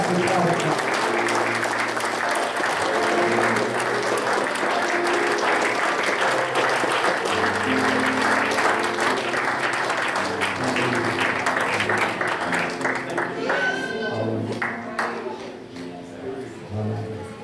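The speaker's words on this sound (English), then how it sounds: "let's give the Lord a hand clap of praise and pass it on" A congregation claps in praise at a church building dedication service, a dense, sustained round of applause with music underneath that thins out and fades toward the end.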